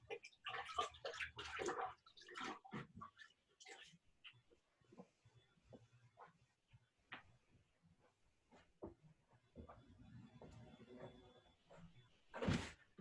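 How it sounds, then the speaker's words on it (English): Hands are washed at a sink in a clay artist's studio, with bursts of running water and splashing, clattering handling noises and a final loud rush, fairly faint with some voice present. "So I'm gonna wash my hands real quick."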